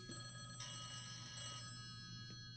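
A mobile phone rings with a steady electronic tone, heard indoors at an informal gathering. It is fairly faint and close-miked, with no talk over it.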